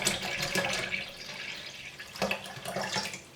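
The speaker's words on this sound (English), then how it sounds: "I'm just going to add these bottled waters in" Bottled water pouring into a mixture, a close, splashing gurgle that comes in uneven surges for a few seconds with no talking.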